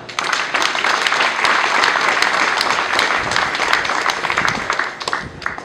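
An audience at a university event applauds, a dense and steady crowd of clapping hands that stays loud and sustained for several seconds with no talking over it.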